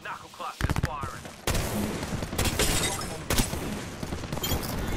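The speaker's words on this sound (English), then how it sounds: "Knuckle cluster firing." Knuckle cluster ability fire in Apex Legends: bursts of rapid popping shots and crackling blasts in quick, dense clusters, loud and close, with a short pause early on before the barrage resumes.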